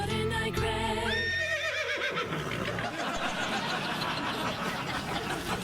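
A horse gives a loud, close whinny with a wavering, falling pitch, then breaks into snorting, chuckle-like nickers over a background of laughter.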